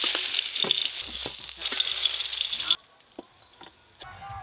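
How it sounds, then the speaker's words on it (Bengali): Pointed gourd (potol) frying in a pan, a loud steady oil sizzle with a few spoon scrapes as it is stirred, then cutting off abruptly to near quiet with scattered light knocks. "চাপা খুলে আর একবার নেড়ে নেব।"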